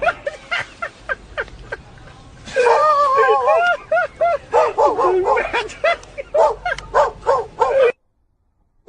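A dog gives a rapid series of sharp yips and barks mixed with high, whining whimpers, fairly close and loud, ending in sudden silence.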